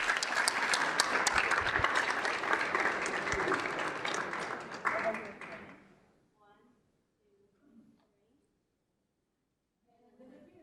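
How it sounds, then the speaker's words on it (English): An audience at a council meeting claps in a dense burst of applause that tapers off after about six seconds, followed by quiet room noise and faint movement. "If you could join me with a big round of applause for Child Crisis of Arizona."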